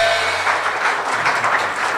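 An audience applauding at a devotional song performance, a dense, loud wash of clapping that holds steady across the moment with no voices on top.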